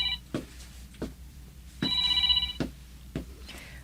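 A cellphone rings with an incoming call, its steady electronic ringtone tones repeating in short bursts at moderate level amid quiet room noise and a few soft knocks.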